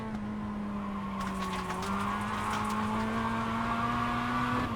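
A race car in the iRacing sim nearly spins out, its engine holding a loud, steady droning tone with faint tire noise running throughout, close and continuous.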